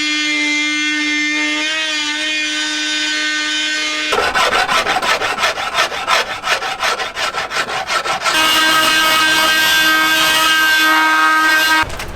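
Steady scraping and rasping while shaving and sanding wood flooring in a camper van conversion, shifting into a faster back-and-forth rubbing in the middle, then returning to a smooth, continuous grind.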